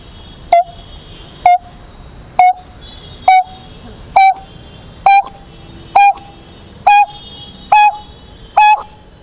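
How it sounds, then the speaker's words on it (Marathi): A coppersmith barbet repeats its hollow, tonal 'tuk' note about ten times at a steady, even pace, loud and clear against a quiet background. "त्यानंतरचा आवाज बघा तांबट"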